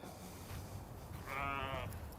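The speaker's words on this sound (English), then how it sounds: "Sheep!" A single sheep lets out a clear, wavering bleat, fairly close, over quiet outdoor background noise.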